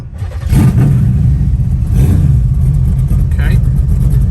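A 1972 Chevrolet Nova with a V8 of at least 500 horsepower fires up and revs, a loud, continuous deep engine roar filling the whole stretch with a rise in pitch partway through.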